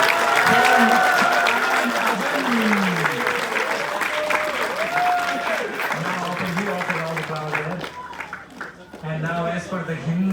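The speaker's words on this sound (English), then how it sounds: "Big round of applause." Wedding guests at a Hindu ceremony break into dense, sustained applause for the newlyweds, the clapping mixed with voices and a steady tonal background that thins out near the end.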